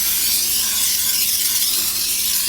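Non-stick cooking spray hisses steadily onto a cake pan in an unbroken bright spray lasting a few seconds, close and alone, with no speech.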